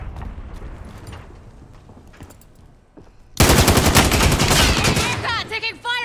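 In Call of Duty: Modern Warfare, quiet scattered shots and movement give way to a loud, sudden eruption of rapid automatic gunfire that continues in dense bursts, with a voice calling out briefly near the end.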